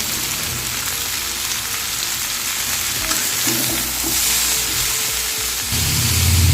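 Sliced vegetables with potato and radish fry steadily in a hot pan, a continuous close sizzle and crackle with soft stirring scrapes, growing slightly louder near the end.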